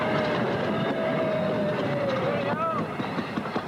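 A Newfoundland CN Railway train rolls along the tracks with a loud, steady rumble, rattling cars and a high wheel squeal, while a voice speaks over the din.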